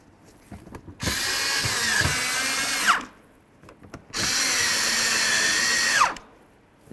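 Power drill driving small screws into the radiator of a 2008-16 Chrysler Town & Country minivan, two sustained whirring runs of about two seconds each, each ending in a ratcheting bind, close and loud with short quiet gaps between.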